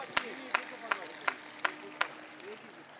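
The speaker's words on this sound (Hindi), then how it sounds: "एक बार आगे से पीछे तक तालियां बजाकर मुझे मन दीजिए।" Six sharp, evenly spaced claps ring out one by one at a comedy poetry show, faint and in a quiet room with a soft murmur underneath.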